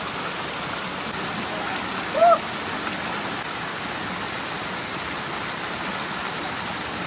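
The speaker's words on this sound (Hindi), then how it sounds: "देखो भाई पूरा खाई है, वो वाटरफॉल।" A waterfall in a gorge gives a steady, even rush of falling water from a distance, holding unbroken for several seconds with one brief faint sound near the middle.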